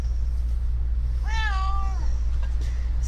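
A pet cat lets out a single drawn-out meow close by in a quiet room over a steady low hum, with no talking during the call.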